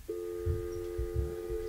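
A telephone line emits one steady, loud electronic tone that holds for nearly two seconds during an office phone transfer, with faint low murmurs beneath it.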